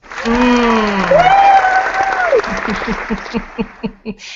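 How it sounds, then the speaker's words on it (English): After a drawn-out vocal exclamation, one person claps their hands during a live online chat: a handful of separate claps, close and fairly loud, spaced roughly evenly and fading toward the end. "Let me clap for you."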